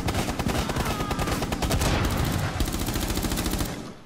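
Rapid automatic gunfire from a hard-recoiling gun in Rainbow Six Siege, a dense close burst of shots lasting several seconds before cutting off.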